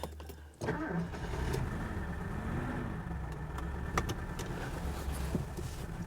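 A 1979 Mercedes 6.9 with a V8 fires up: a short starter crank gives way to a catch, and the big engine settles into a steady, moderately loud idle that carries on alone.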